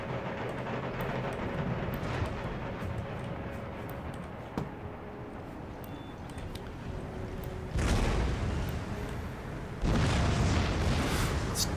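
Artillery in Empire Total War, a historical strategy video game, fires heavy booming rounds over a dense battlefield rumble, with two big blasts swelling near the end.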